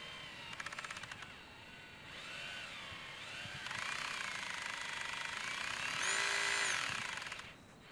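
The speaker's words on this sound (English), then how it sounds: "This is a hammer drill here, and what's happened is it's just not putting out enough power." A hammer drill with an auger bit bores into the ground while short on power, revving up in stages with a rapid buzzing hammer action that grows louder and then cuts off, with no voices.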